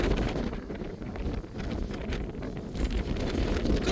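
Strong wind on Shivagange hill in Karnataka roars steadily across the microphone, a constant loud rumble and hiss with no pauses from start to finish.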